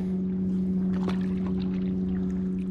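Paddle boarding at Deep Cove park: soft paddle strokes in the water under a steady, droning wind and ambient hum outdoors.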